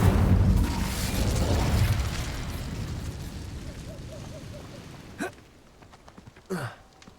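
The Incendio fire spell in Hogwarts Legacy bursts out with a loud whooshing blast of flame that fades gradually, followed by two short, softer magical swishes.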